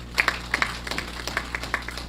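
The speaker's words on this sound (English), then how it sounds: "Big applause." Scattered audience applause at a school exam results ceremony, a handful of individual claps rising and falling irregularly over a steady low hum, moderately faint and without talk.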